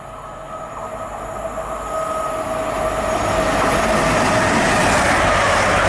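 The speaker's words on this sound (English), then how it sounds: "Yeah, that's the Liverpool train, all right." A Grand Central train approaches and rushes past at Grantham station on the East Coast Main Line, its rumbling roar swelling louder with a high whine and rattling wheels; no voices.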